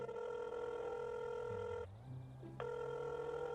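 A telephone rings after a number is dialed in the video game GTA 5, a steady electronic ring tone that breaks off briefly into a low tone before resuming.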